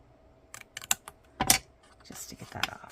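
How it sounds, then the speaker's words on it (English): Scissors cutting an angled edge on the flap of a paper card explosion box, a few sharp snipping bursts with small rustles of paper between them, close and fairly quiet. "you're cutting on the flap, not the long piece, and just cut at an angle"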